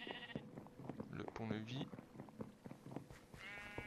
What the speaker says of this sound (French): il y a des petits moutons là